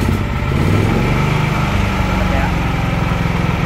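An iPower 10 kVA inverter generator engine runs at a steady, loud, close drone with a buzzy mechanical texture, with no clear start or stop and no quiet gap in the sound.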